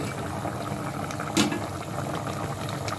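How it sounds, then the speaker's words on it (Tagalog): Sweet potato soup boils in a covered pot with a steady, close bubbling hiss, broken once by a brief soft clunk partway through. "Takpanan muna natin. Kulo natin ha."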